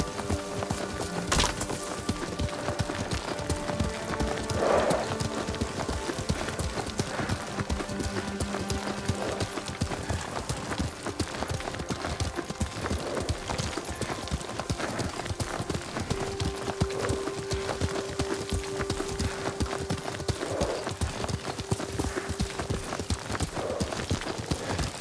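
Horse hoofbeats in Ghost of Tsushima, a steady clip-clop rhythm of hooves throughout while riding, with an occasional whinny and faint ambient game sound underneath.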